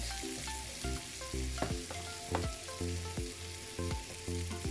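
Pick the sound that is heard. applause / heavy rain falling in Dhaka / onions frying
onions frying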